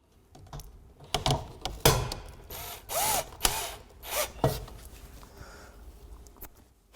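Screws being driven to fix a panel of the MAX-3 system in place, with a series of short ratcheting, clicking bursts and a few sharper knocks at close range, with no talk.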